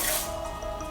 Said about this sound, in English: that's right, you give it a spray.